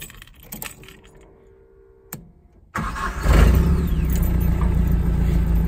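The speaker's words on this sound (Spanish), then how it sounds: "Vamos a intentar prenderlo." A Datsun 510 car: a few soft clicks and a brief key-like rattle, then the engine cranks and catches into a loud, steady idle that holds to the end.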